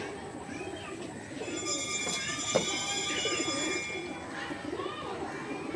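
Pigeons, including a Rampuri male, cooing in a low, repeated throaty murmur close by, with someone talking over the birds and a faint high ringing tone in the background.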